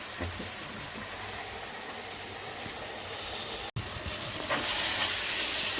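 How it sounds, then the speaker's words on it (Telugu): Tomato, ginger-garlic paste, green chillies and curry leaves fry in oil for a Godavari-style curry, giving a continuous close sizzle that briefly cuts out, then returns louder and hissier. "టమాటా అల్లం వెల్లుల్లి పేస్ట్ పచ్చిమిర్చి కరివేపాకు వేసి బాగా వేయించాం కదండి"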